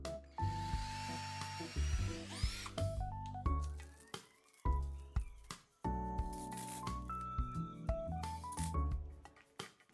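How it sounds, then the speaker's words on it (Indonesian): A handheld power drill bores holes for IKEA Adils table leg brackets on a DIY desk, whirring in short bursts that rise and stop repeatedly, quiet and close with brief pauses between runs. "Lalu kita akan bor terlebih dahulu, baru kita akan pasangkan skrup"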